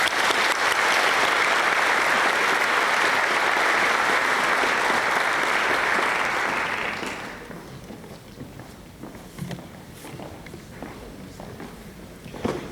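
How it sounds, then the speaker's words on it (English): Audience at a college address applauds new interns and mentors: loud, dense clapping filling a hall for several seconds, then fading quickly into scattered claps, footsteps and soft room noise. "I hope you join me in a round of applause to welcome our new interns and to thank our mentors."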